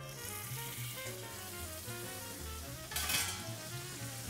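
Butter sizzles and crackles in a hot pan on the stove while making Venezuelan corn pancakes, a steady close frying hiss with a brief louder burst of spatter partway through.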